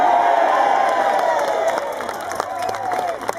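A large outdoor crowd at an anti-carbon-tax rally in Canberra cheers and whoops loudly, with scattered clapping and shouts, sustained and then easing slightly.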